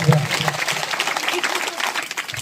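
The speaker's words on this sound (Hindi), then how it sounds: "चलिए आप लोगों के लिए जोरदार ताली बजाइए एक बार।" A crowd at a Christian gathering claps in a steady, moderately loud patter of many hands, with low voices and some murmuring mixed in.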